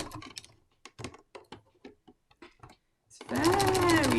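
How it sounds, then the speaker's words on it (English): A sewing machine lock stitches bias binding onto a quilt: after a few seconds of a person talking, the machine starts with a close, loud, steady mechanical whir that runs to the end. "It's going to do a lock stitch first."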